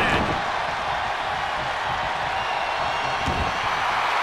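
A roaring arena crowd in a WWE wrestling game, a steady loud wall of cheering and noise that never lets up, with a brief thud-like accent near the end.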